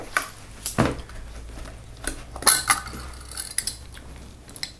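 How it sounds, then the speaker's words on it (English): Several short, crisp mechanical clicks and clacks from a Ricoh Singlex TLS camera, whose vertically traveling stainless steel Copal Square shutter fires at uneven intervals over quiet room hiss. "The vertically traveling stainless steel Copal square shutter."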